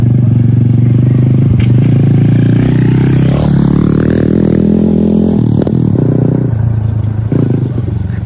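Loud motorcycle engine close by, rising in pitch as it rolls past with some clattering and scraping mixed into the rumble.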